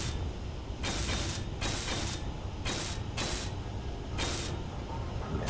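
Block welding in the video game Space Engineers gives a loud hissing, whirring mechanical tool sound that comes in repeated bursts of about a second, with short gaps between them.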